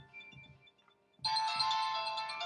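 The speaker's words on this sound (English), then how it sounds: "That's a phone call." A phone ringtone starts abruptly and rings on steadily, a bright electronic tone close by after a quiet stretch with faint voices.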